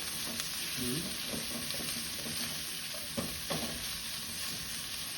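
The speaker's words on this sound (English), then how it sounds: "Stir fry it." Pork scratchings stir fried in a pan give a quiet, steady sizzle with soft scraping and stirring under it, fairly faint and continuous for a few seconds, no speech.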